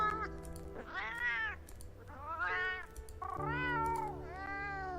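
Palico cat character meowing in the Monster Hunter Wilds video game, four drawn-out, rising and falling meows that come in turn, clear and close.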